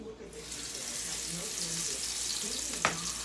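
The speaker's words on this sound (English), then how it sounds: "Hear that sizzle?" Cube steak sizzling in a frying pan, a constant hiss and crackle up close, with a brief clink of something touching the pan near the end.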